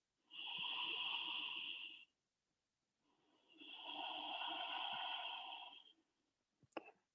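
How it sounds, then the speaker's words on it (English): Long, smooth ujjayi yoga breaths drawn through a constricted throat give a soft, hissing rush. Two sustained breaths of about two seconds each are close and quiet, followed by a faint brief sniff. "let's engage a long, smooth breath, or ujjayi breath"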